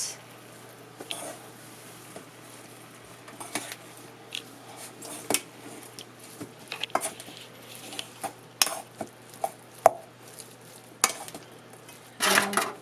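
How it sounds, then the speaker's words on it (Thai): Korean bibimbap rice being stirred to mix it with spinach and chili paste, light irregular scrapes and clinks of a spoon against a bowl, close and quiet, with a louder clatter at the end. "เราก็คนให้เข้ากันนะคะ"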